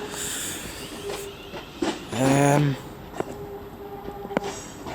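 A train departs Wolverhampton station on the West Coast Main Line, with a brief, loud tonal whine as it pulls away, set against ongoing station background noise and faint clicks.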